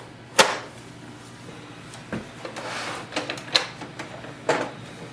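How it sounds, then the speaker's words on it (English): Short mechanical clicks and whirring bursts from a Canon TS3700 inkjet printer mechanism recognizing newly installed ink cartridges, irregular and close, with brief pauses between movements. "Printer will make some sound when it's using the new ink cartridges."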